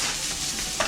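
Bratwurst, onions and peppers cook on a Blackstone griddle with a loud, even sizzle that holds steady. A short utensil scrape comes near the end.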